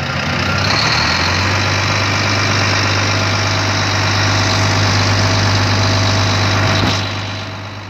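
A Volvo D13 diesel engine in a Volvo FM truck runs steadily at close range, a loud, even drone with a strong low hum and constant mechanical rattle, no voices over it.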